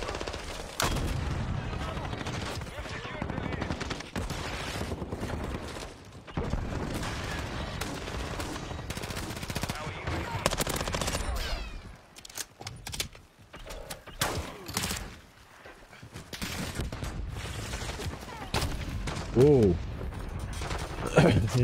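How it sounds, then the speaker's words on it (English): Shotgun firing in a video game, repeated loud blasts and rapid bursts of gunfire with mechanical clatter over about twenty seconds, dense and close, with brief lulls and some voice underneath. "It's a cool shotgun."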